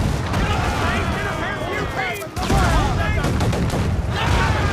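Swivel cannons in Assassin's Creed 4 Black Flag fire repeatedly at a ship in a dense, loud barrage of booming blasts. Crashing impacts and game noise run throughout with no letup.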